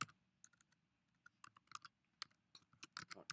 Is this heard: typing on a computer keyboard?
yes